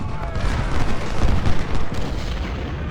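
Artillery fire in the Civil War video game Ultimate General: Civil War, with dense, continuous rumbling booms and volleys of cannon shots close and loud, blended with battlefield noise.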